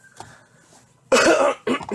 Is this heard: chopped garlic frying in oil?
no